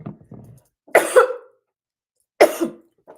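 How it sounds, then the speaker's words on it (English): Two sharp, loud coughs about a second and a half apart, each with a rough throaty tail, preceded and followed by brief soft vocal sounds. "Excuse me, I haven't coughed in like a day."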